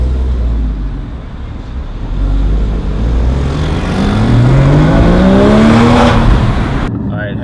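A car engine revs hard after a meetup, then accelerates away, its pitch climbing steadily as it pulls off, loud and close at first before the sound cuts out abruptly.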